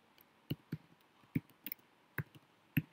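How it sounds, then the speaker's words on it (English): Typing on a computer keyboard while filling in a Moodle course name: sparse, irregular single key clicks, quiet and close, with no talk. "So I am typing course full name"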